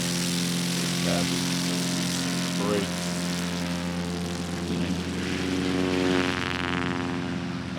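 A STOL light aircraft with electric flaps flies at the 2025 Music City STOL Competition, its propeller and engine giving a steady, loud droning hum for the whole stretch while a commentator talks over it.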